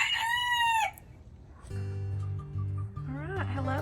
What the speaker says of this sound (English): let's go into the coops and see what's going on with the chickens.